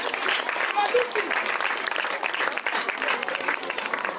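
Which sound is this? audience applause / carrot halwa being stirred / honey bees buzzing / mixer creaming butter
audience applause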